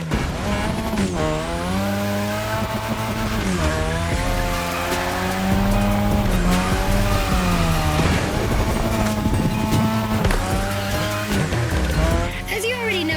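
A car drifting on a drift track in The Crew Motorfest howls with sustained tire squeal over a revving engine whose pitch rises and falls with each slide. The sound is loud, continuous and close.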